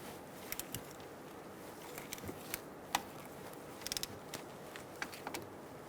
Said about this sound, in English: You're going to tighten it down with an 11 millimeter socket.